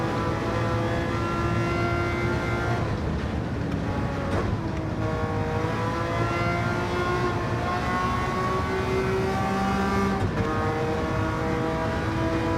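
A racing car in Gran Turismo 7 sustains a smooth, loud engine drone with clear rising and falling harmonic tones as it revs through gears during an online lobby race, heard alone without talk.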